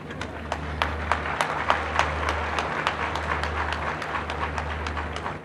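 A crowd claps at a scholarship laptop ceremony, with distinct sharp individual claps standing out over a continuous applause wash and a low hum, steady throughout.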